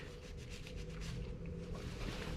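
Cloth wiping with rubbing alcohol in a garage, prepping a 2020 BMW S1000 RR during a chain adjuster install: a steady, continuous rubbing and scrubbing texture, close and even throughout, with no talk.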